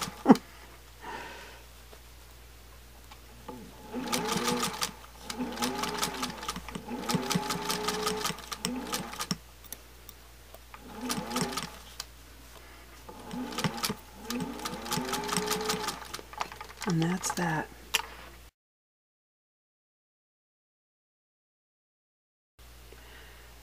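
A sewing machine stitching gently curved batik quilt pieces, running in bursts of rapid mechanical whirring separated by short pauses, then cutting to silence near the end.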